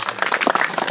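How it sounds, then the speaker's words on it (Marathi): A short burst of audience applause breaks out during a share market question-and-answer session, dense clapping filling the full second at close range. "सरांसाठी जोरदार टाळ्या."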